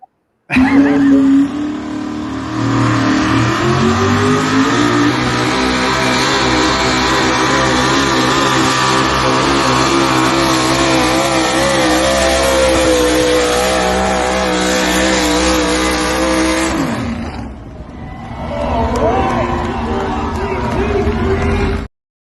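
Pulling truck engine roaring on a speed sled at a truck pull, a loud sustained rev that climbs in pitch, drops off sharply near the end, then picks up again briefly.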